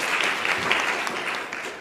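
An audience applauds at a presidential address for an integrated health conference, a dense, steady clapping that fills the space evenly for a couple of seconds, with no clear voices over it.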